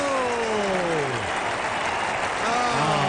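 Crowd applauding and cheering after a goal is kicked at an Australian rules football match, steady broadband clapping throughout with a commentator's voice gliding over it.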